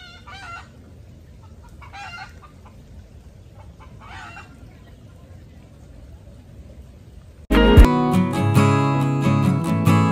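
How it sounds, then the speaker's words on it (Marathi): Jungle fowl call in a dense forest near a hiking trail in Malad, Mumbai, with several short crowing and clucking bursts at mid distance before loud music suddenly takes over. "तुम्हाला रान कोंबडे जर माहिती असतील तर त्यांचा जो आवाज आहे तो माझ्या मागे येतोय"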